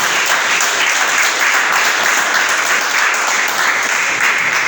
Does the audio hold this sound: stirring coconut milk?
no